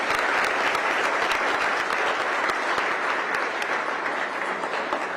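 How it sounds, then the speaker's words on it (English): Steady, dense applause from an audience fills the whole stretch, clapping evenly at full strength before easing slightly at the end. "I think gentleman needs an applause"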